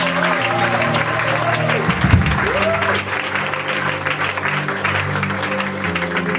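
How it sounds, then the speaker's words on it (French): A church congregation applauds and cheers for Jesus, steady loud clapping from a crowd throughout, with a sustained sung or spoken voice line and organ-like tones running over the applause. "on peut acclamer Jésus pour elle"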